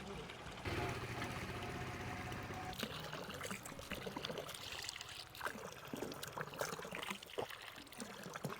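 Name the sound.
drinking water trickling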